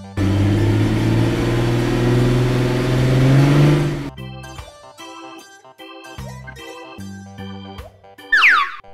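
A toy car engine revs loudly with a rising, whirring drone for about four seconds, then cuts off and gives way to a run of bright, plinking xylophone-like notes.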